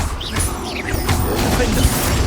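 Confringo and Stupefy spell casts in the Hogwarts Legacy video game: dense, loud bursts of magical crashes and whooshes overlapping continuously with game voice shouts.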